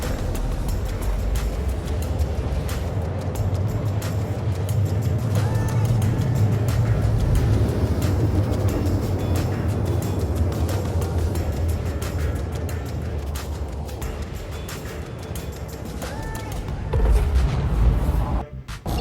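Quantum travel drive spooling and running in the space game Star Citizen, a loud, continuous low rumbling roar that holds steady, then surges briefly near the end.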